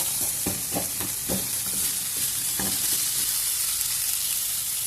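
Potatoes and onions fry in a pan with a steady, dense sizzle, punctuated early by several clattering stirs, close and loud with no talk.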